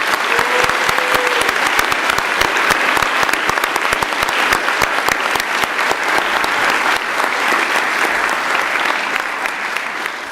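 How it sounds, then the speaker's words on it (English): A convocation audience gives sustained applause for professors receiving Excellence in Teaching Awards, a thick, continuous roar of many hands clapping at a steady, full level. "could we give them all a hand of applause?"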